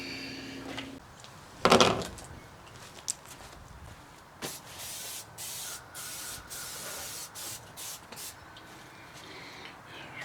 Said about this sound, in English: this is some Pam. It's just a canola oil blend. I want to keep it from sticking to get started.